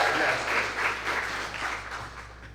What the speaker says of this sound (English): Can I have another hand clap for you all?